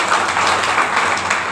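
Enthusiastic audience applause for a business speaker at an AWPL business-plan meeting, a dense steady wash of many hands clapping close and loud, with a low hum underneath and no speech.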